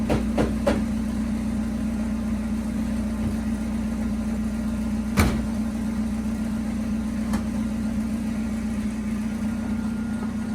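A 1969 Chevy Corvair with S10 running gear idles steadily while warming up, a constant low hum with a few faint knocks and clicks over it, heard alone without speech.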